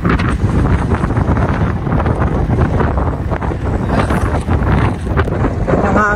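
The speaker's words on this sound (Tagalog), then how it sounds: "Grabe ang hangin." Strong wind buffets the microphone aboard a boat, producing loud, continuous rumbling gusts, while voices speak faintly underneath.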